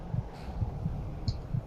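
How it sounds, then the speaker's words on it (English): Heartbeat effect from an invisibility spell in Skyrim, a steady series of soft, low thumping double beats repeating at an even pace, muffled and close with a faint hum beneath and no speech. "Why is my heart beating still?"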